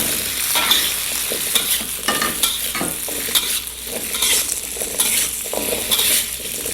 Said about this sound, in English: We'll sauté these for a few seconds until all the aromas are impregnated into the hot ghee.